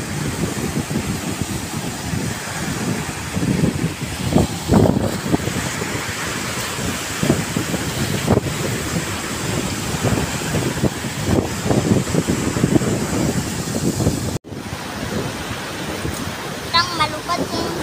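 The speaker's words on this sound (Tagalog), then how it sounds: "Dito kay malakas ang alon." Strong wind and crashing waves on a warm lake, a steady roaring rush with surges throughout, loud and close, with brief bits of distant voices near the end.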